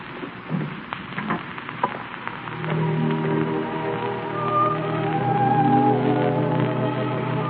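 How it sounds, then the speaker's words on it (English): Heavy rain patters steadily as a radio drama sound effect, a dense crackling wash that swells louder over several seconds, with dull knocks early on and faint tonal hum beneath. "It's raining awfully hard."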